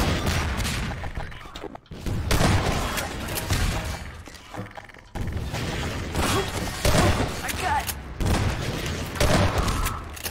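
Loud, heavy shotgun blasts in Half-Life 2, repeated booming shots in a busy combat mix that cuts out briefly twice, with faint talking underneath.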